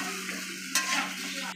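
A spice masala sizzling in a wok while being stirred, a close, loud steady fry hiss with two sharp scraping stirs; no talking.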